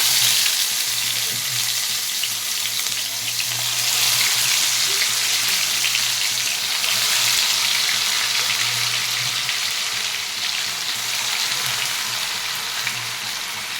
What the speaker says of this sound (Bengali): তা আমি এক এক করে আমি এগুলোকে ভাজতে দিচ্ছি।